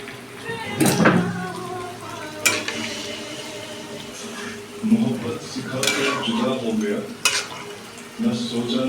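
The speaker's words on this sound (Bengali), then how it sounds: "মাংসের তরকারিতে কিন্তু অল্প করে জল দিচ্ছি" Meat and potato curry in a pot, with water being added; loud spoon scrapes and clanks against the pot repeat over a constant bubbling sizzle, with some faint voices in the background.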